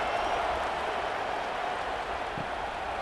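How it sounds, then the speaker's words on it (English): Football stadium crowd at a Tennessee Volunteers vs. Georgia Bulldogs college game sends up a steady, dense roar of cheering and buzz that holds loud and unbroken throughout, with no single voice standing out. "this crowd is buzzing after that last score"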